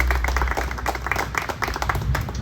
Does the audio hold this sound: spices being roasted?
no